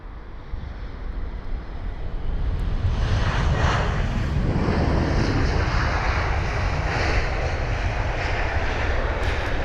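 A 22-year-old British Airways aircraft, flight BA855 from Prague, arriving at London Heathrow, heard as a steady, loud jet engine roar building after a couple of seconds, with some wind noise.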